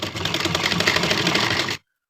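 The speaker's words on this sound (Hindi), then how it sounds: "आप लोग सिलाई लगाते जाएंगे।" Sewing machine stitching an elastic waistband into trousers, a steady rapid mechanical whirr running continuously for under two seconds before stopping abruptly, close and fairly loud.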